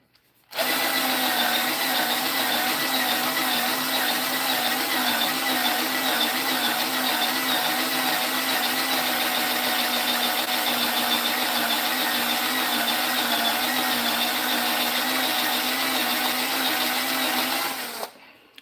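A power drill bores into a piece of wood clamped down, giving one long, steady, loud motor whine that starts abruptly and runs unbroken for about seventeen seconds before stopping.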